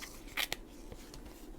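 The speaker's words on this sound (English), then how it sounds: "I'm just putting some book page at the top. Rip this off." Book page paper ripped by hand during crafting of small tag houses, a quick faint tear with a couple of short crisp bursts against a quiet room background.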